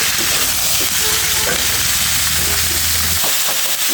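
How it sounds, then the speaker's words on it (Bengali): Parboiled cauliflower with turmeric and salt fries in a pan over high heat, a loud dense hiss and sizzle throughout with a low hum and a few stirring scrapes near the end. "এখন কিন্তু আমি হাই জালে এটা সুন্দর করে ভেজে নেব"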